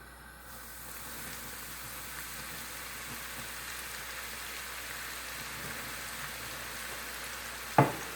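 Sliced shallots fry in hot oil with rice flour, giving a soft, steady sizzle that runs throughout, ending with a single brief clink near the end.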